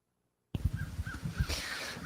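Crows caw several times in a steady series of short calls over strong hurricane wind gusts, with the wind rushing loudly after a brief silent start.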